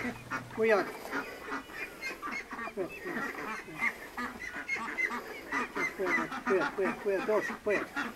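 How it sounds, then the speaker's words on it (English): Ducks quack and honk in a busy cluster from near to moderately close, with repeated overlapping calls throughout and no clear gaps, the flock noise fairly loud and continuous. "The ducks seemed to be able to make more sound than poor Peter."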